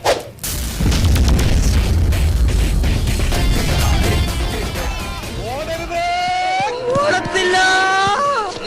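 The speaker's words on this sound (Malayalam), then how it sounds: "വെക്കടാ വെടി" A loud, booming gunshot blast effect erupts and rolls into a sustained rumbling roar, followed by tonal wavering sounds near the end.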